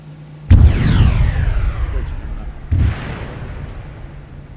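A thrown charge detonates in a military shooter video game with a sharp, booming blast followed by a long rumbling decay, then a second weaker boom about two seconds later under light background noise.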